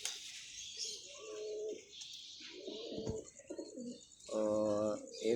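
Domestic pigeons coo in a loft, several deep, throaty rolling calls repeating close by with short gaps, the last one longest and loudest, over faint chirps and a soft background hiss.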